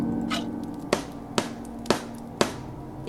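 Planks are hammered over a window in the video game Don't Escape, five evenly spaced, sharp wooden knocks about half a second apart over a faint steady hum.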